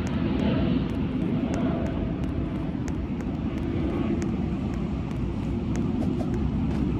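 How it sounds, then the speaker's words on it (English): An airplane flies overhead in a Roblox game, a loud, steady engine drone that fills the whole clip with faint ticking clicks on top. "Plane flying over me."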